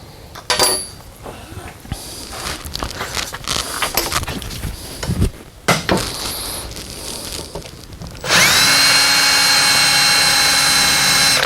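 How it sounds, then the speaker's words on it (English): A power drill with a 9/64 bit bites into rivets on a 1952 Chevy pickup vent window near the end, a loud, steady high whine after several seconds of scattered clanks and handling noises. "We will drill those two out"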